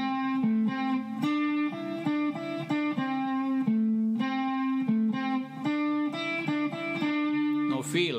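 An overdriven electric guitar plays a blues phrase of steady, unbent notes that move stepwise, mostly alone, with a brief scrape at the end.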